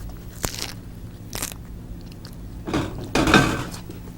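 Crisp, crunchy bites into a fresh lobster roll: two sharp crunches, then louder chewing and crackling close by with no talk.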